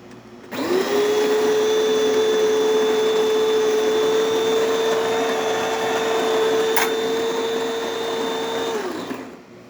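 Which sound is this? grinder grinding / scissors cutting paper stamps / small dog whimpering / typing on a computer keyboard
grinder grinding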